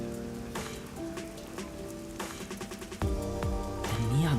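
Rain falls steadily in the Kanai Ward streets of the video game Master Detective Archives: Rain Code, a constant patter on surfaces with occasional heavier drips and faint game tones beneath.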